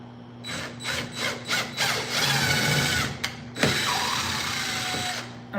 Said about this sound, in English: we'll take the wall anchor and we'll screw it into the wall with the drill.